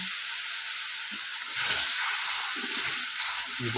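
Hot oil sizzles and hisses steadily in a village kitchen while a small fish dish is cooked, a continuous close broadband crackle with a few faint low knocks beneath.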